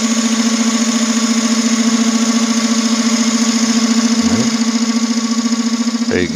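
A wood lathe spins steadily with a loud, constant motor hum and rhythmic pulsing while a gouge cuts the turning wood, with brief scraping sweeps near the end and no voices.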